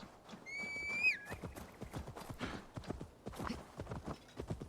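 Steady galloping hoofbeats pound close by, with a loud whinny near the start, game-style sound effects with no talking, from the video game Assassin's Creed Valhalla.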